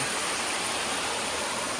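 A waterfall in misty Vagamon, Kerala, heard as a constant broadband rush of falling water, steady and dense throughout with no voices.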